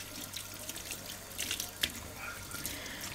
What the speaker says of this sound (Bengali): আমি বোধহয় প্রায় 5 মিনিটের মতো ভিজিয়ে রেখে রেখে তারপরে এগুলো ধুয়ে ফেলছি।